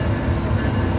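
A CN freight train passes an open rail crossing in Canada, producing a loud, steady low rumble with a dense roar throughout.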